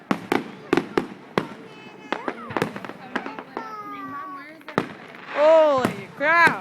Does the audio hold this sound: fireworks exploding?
yes